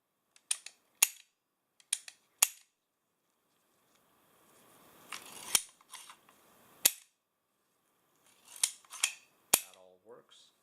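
Han Solo DL-44 blaster replica being handled, with a series of sharp, close metallic clicks and snaps from the trigger and hammer, some in quick pairs, separated by quiet gaps and soft handling noise.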